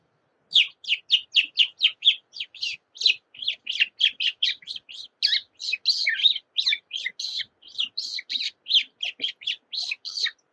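A human voice imitates birds chirping, giving rapid, repeated high whistled tweets in an even rhythm for about ten seconds, close and clear.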